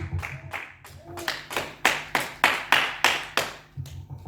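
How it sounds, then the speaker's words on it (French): A church congregation claps in unison to acclaim the Lord, a steady run of about a dozen sharp, loud, close claps, with voices faintly underneath at the start and end. "Acclame le Seigneur Jésus."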